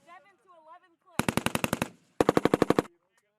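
M240B and M249 machine guns firing during a qualification range session, two crisp bursts of about eight rapid rounds each, loud and close, after a short stretch of faint voices.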